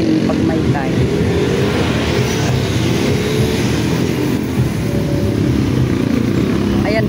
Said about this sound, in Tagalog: Pinartin yung motor.